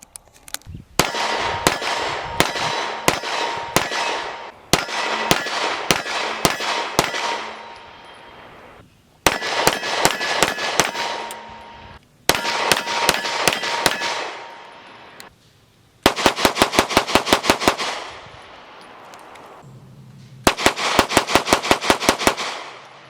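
Six strings of loud, sharp HK VP9L long-slide pistol shots with Fiocchi ammunition, each volley of several quick rounds ringing out at an outdoor range and separated by brief pauses.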